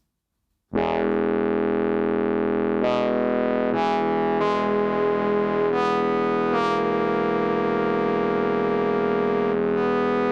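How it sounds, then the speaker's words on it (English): A sustained, buzzy minimal synthesizer tone akin to Oberheim or Moog synths, with a bright, distorted edge, holding steadily while brief swells and accents pop in every second or so. "get sounds that are akin to Oberheim or Moog synths"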